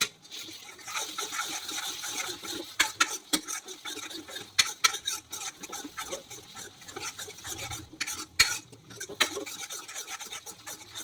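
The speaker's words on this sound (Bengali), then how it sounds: "এটা দিয়ে কিছুক্ষণ নাড়াচাড়া করলাম।" Coarsely ground spices are stirred and mashed in a pan with a utensil, giving repeated scraping and rasping strokes in an irregular rhythm over a faint sizzle, close and moderately loud.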